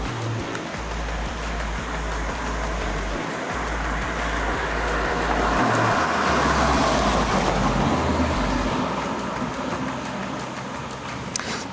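A car rolls past on a street in front of a license-plate recognition traffic camera, a steady broad road rumble that swells in the middle and eases off, heard without any talk.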